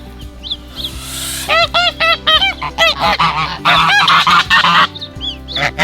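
A gosling on a farm honks repeatedly in loud, close, uneven bursts, some overlapping into a rapid chattering run, with brief quieter gaps between calls.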